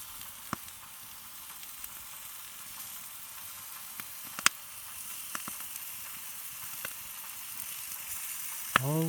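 Pork neck sizzles on a hot stone slab set over a wood fire, a steady low frying hiss broken by scattered sharp pops and crackles, with a louder burst of sizzle at the very end.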